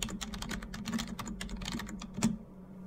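Soft, quick keystrokes on a computer keyboard as a password is typed, a short burst of clicks with small pauses, close and quiet.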